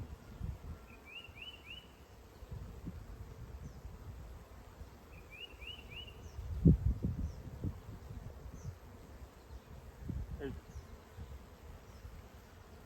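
Honey bees crawl and hum over a beehive frame, a faint, low buzzing drone with occasional louder passes and soft handling thumps, and a brief spoken word.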